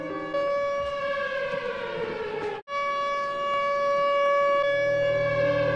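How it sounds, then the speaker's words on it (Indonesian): A warning siren sounds a loud, steady, high-pitched wail with rich overtones. It drops out briefly midway and then resumes at full strength. "Sirine peringatan pun berbunyi."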